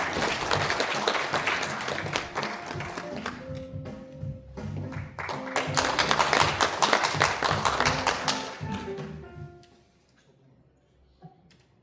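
Audience applause in a large assembly hall at the National Assembly members' building as a former lawmaker is welcomed to give a memorial address: dense clapping swells for several seconds, then thins to a few scattered claps and silence.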